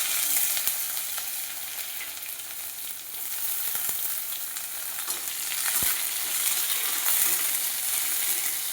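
Chopped onion, crushed garlic and split green chillies fry in hot oil with five-spice, giving a loud, steady sizzle with scraping stirs throughout and no talking.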